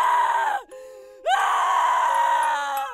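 A person screams in pain during a dramatized machete attack, two long, loud, strained wails split by a short gasping break, close and alone.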